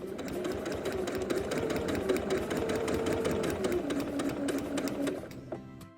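A sewing machine stitches quilted fabric for an infant hoodie, running at a fast, steady rhythmic clatter for about five seconds, then slowing and stopping, close and alone.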